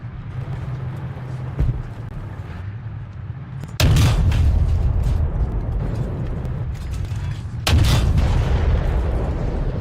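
Tank cannon fire in War Thunder: two heavy booming shots a few seconds apart, each followed by a rumbling tail over a steady engine drone.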